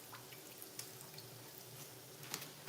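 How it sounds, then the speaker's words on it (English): Lettuce being rinsed under a running kitchen tap, a quiet steady stream of water with scattered drips and splashes into the sink, fairly faint throughout. "are going to rinse the lettuce. And we're gonna do it the old-fashioned way"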